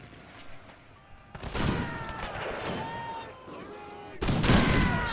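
Musket volleys in a video game recreation of the Battle of Isandlwana, with loud bursts of overlapping gunfire and crackling shots around 1.5 s and again near the end, plus a lull of game sound in between.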